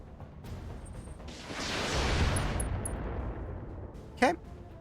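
Mech weapons fire in the RogueTech video game as a Condor shoots at a Ryokan: a loud, sustained wash of gunfire that swells in the middle, ending with a sharp burst, with speech faintly present.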